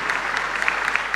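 A room full of people claps steadily, a dense patter of applause that holds at an even level throughout.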